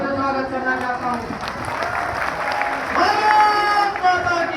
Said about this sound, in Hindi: मैं उनका जोरदार तालियों से स्वागत करना चाहता हूं।